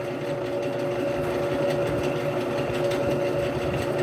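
A wood lathe turns a large bowl blank with a steady, even motor whine and hum that holds constant throughout at moderate level, with no cutting or talk.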